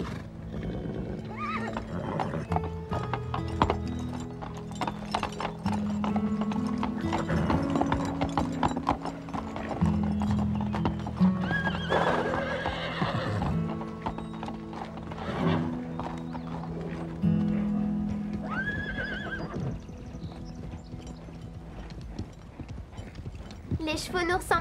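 Horses clip-clop steadily and neigh now and then in a stable setting, the hooves and whinnies mixed with people talking in French over a light musical bed.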